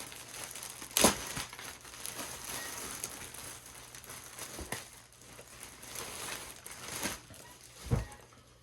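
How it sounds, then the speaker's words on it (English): A True Religion jacket package is cut and torn open, with crinkling plastic and rustling throughout and a few sharp louder tears or snaps, close and fairly quiet. "We're gonna cut it open, bust it open, see what's going on with that."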